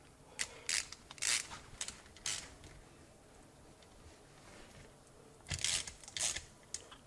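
Bolts being screwed into a BMW R50 motorcycle final drive, quiet clustered ratcheting clicks in two bursts separated by a pause, close and faint.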